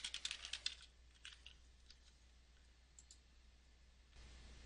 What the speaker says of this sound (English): Type in your Clark username and password and click Login.